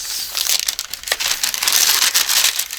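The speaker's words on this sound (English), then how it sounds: "Some more noisy paper." Close paper crinkles and rustles in quick, irregular bursts, crisp and fairly loud, with no talking, from recycled mail and coffee-dyed papers in a junk journal.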